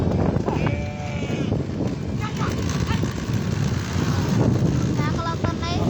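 Sheep at a village gathering in Guripalem, Andhra Pradesh, bleat several times, close and distinct, over crowd and traffic noise.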